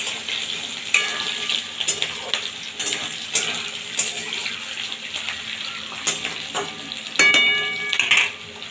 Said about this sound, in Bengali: ভালোভাবে হালকা হালকাভাবে ভাজা ভাজা করে নেব।